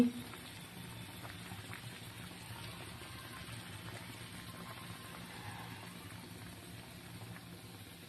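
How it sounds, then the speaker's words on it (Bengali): Fish roe curry simmering in a pot: a soft, steady bubbling hiss that keeps going without a break, low in level and heard up close. "ঝোল টকবক করে ফুটছে"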